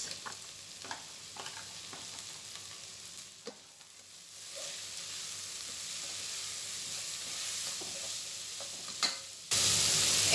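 Mushrooms fry in a pan with a soft, steady sizzle and occasional stirring clicks and scrapes, close and fairly quiet, growing louder toward the end, with no talking.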